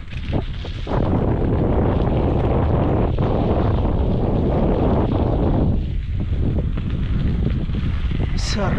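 Steady wind buffets the microphone on a gravel bike ride along the Macabud Loop, a loud continuous roar that dips briefly before returning.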